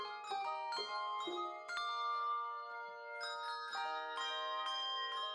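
A handbell choir rehearses in a church, ringing a slow sequence of clear, struck chords that overlap and sustain, with about a dozen strikes heard alone and no talking.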